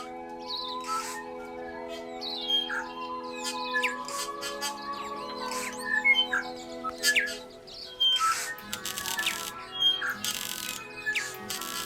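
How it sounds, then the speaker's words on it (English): Birds chirp and sing on a morning, with many short, bright calls and twittering phrases overlapping over a steady low musical tone, fairly close and clear, with no talking. "The next morning, the birds were chirping"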